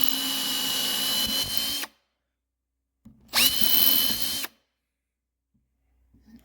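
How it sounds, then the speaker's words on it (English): A power drill whines into wood in two bursts while pre-drilling for screws on a bench leg, the second rising sharply in pitch, with brief silences between. "Pre-drilling so we don't split."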